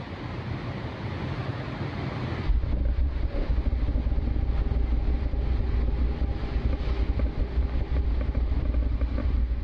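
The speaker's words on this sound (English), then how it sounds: "It kind of sounds like a Harley, like a motorbike" A low, steady engine idle thrums continuously, growing louder and fuller after a couple of seconds, with some wind noise over it.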